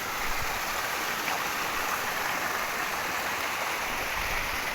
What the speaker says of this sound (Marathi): मस्तच पाणी पडतं